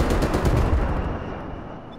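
A rapid burst of automatic gunfire in Call of Duty: Black Ops Cold War, close and loud with a fast rhythmic rattle that fades into a short echoing tail.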